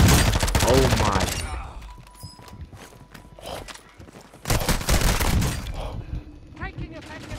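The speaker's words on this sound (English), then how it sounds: "Taking effective fire." Loud bursts of automatic gunfire in the video game Call of Duty: Modern Warfare II, with a heavy volley at the start and another midway, crackling impacts between them and voices heard faintly.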